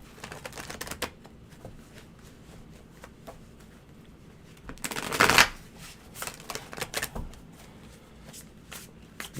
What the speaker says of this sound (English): We're the best card readers because we're the best shufflers. We're shuffling constantly.